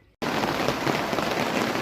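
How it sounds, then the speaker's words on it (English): Heavy storm rain pounds a tent in a dense, constant hiss that bursts in abruptly after a brief near-silent moment, then stays loud and unbroken with no one talking. "I'm sure you can hear the rain has started. It's coming down quite heavily now"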